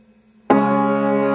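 A sustained piano chord from a song, struck once firmly after a low held note and left ringing with rich steady harmonics, close and clear with no talking.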